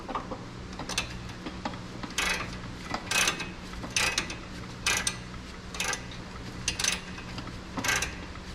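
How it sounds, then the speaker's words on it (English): A ratcheting wrench loosens a bolt on an NBS crew cab Chevrolet Silverado, giving about a dozen sharp ratchet clicks in irregular bursts over a low steady background hum. "you can do it with a ratcheting wrench"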